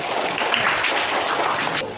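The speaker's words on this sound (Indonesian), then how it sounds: "Sudah, tepuk tangan untuk semuanya" A classroom of children claps together, a brief burst of dense, even applause that stops abruptly near the end.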